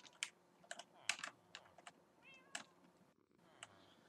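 A Minecraft cat meows once at mid-volume, a short rising tonal call set among rapid keyboard typing clicks and game sounds, with no speech.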